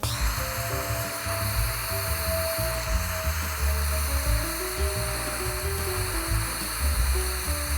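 Propane torch heating a seized top bolt on the gearbox of a 1952 VW Barndoor ambulance, a steady close roaring hiss running throughout with clanks and shop noise underneath.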